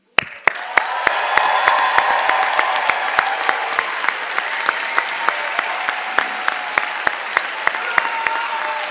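Commencement crowd at the 2019 Gerald R. Ford School of Public Policy ceremony breaks into sustained loud applause with some cheering, while sharp, evenly spaced clicks repeat throughout.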